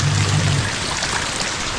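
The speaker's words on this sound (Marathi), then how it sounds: "कालपेक्षा जास्त पाऊस आज आहे" Monsoon rain falls steadily under a cloud-filled sky, a continuous dense patter and wash that holds at an even level throughout the short stretch, with no voices over it.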